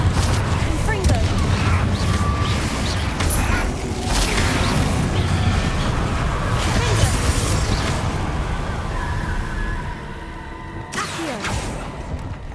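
Blast spell effects from the Hogwarts Legacy video game, dense rumbling booms and creaking mechanical crackle layered continuously, with sharp cracks breaking through near the end.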